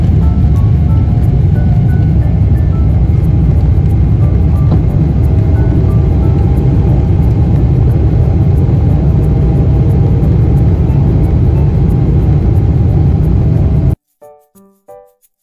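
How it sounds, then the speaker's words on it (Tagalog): A Qatar Airways airliner's engines roar steadily at takeoff, a loud continuous broadband rumble heard from inside the cabin, cutting off abruptly near the end with a few faint clicks. "Ipaparinig ko sa inyo yung ingay ng eroplano ha."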